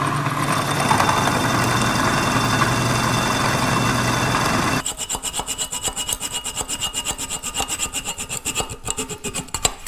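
Hacksaw cutting a steel part while machining a pulling adaptor for a Caterpillar RD-6 final drive hub; a continuous machine hum gives way to rapid, evenly spaced rasping strokes, loud and close.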